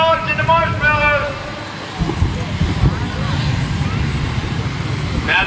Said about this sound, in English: They run the engines up to speed.